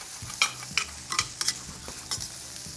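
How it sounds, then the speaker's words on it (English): Garlic cooking over low heat in a pan, soft stirring scrapes and gentle sizzle with a few sharper clinks of a utensil at irregular intervals, close and fairly quiet, no talking. "Now that the heat's down to low, I'm going to go ahead and add this garlic."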